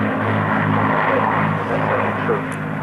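Piston engines of an Avro Lancaster bomber drone steadily at a 1992 airshow at RAF Coningsby, a loud continuous propeller roar with layered hum, and a voice speaks over it throughout.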